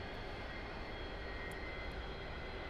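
A-4 Skyhawk jet taxiing in the DCS flight simulator, a steady broadband engine roar with a high whine holding evenly throughout, continuous and fairly loud with no breaks.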